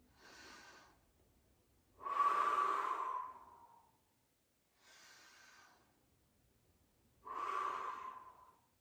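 Breaths during a Pilates mat exercise: slow audible inhales alternate with stronger, longer exhales, four in all and evenly spaced, close and fairly quiet, with no talking.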